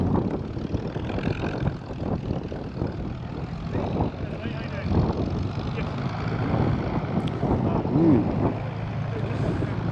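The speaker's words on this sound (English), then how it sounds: "I can hear a Spitfire just chugging in." Supermarine Spitfire engine chugging in at a Cotswold airfield, a low, steady propeller drone that holds throughout under ambient noise and some talk nearby.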